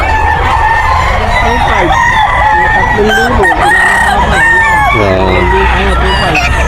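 Roosters crow loudly at a Bocaue pet market in the Philippines, with repeated overlapping cock-a-doodle-doo calls and clucks close by and a voice briefly heard among them.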